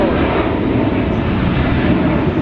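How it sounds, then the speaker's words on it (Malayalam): A dense, steady roar of an aircraft engine fills the whole stretch, loud and unbroken, like a plane passing overhead. "ഇവിടെ ഫ്ലൈറ്റ് അടുത്ത ഫ്ലൈറ്റ് പോകണം"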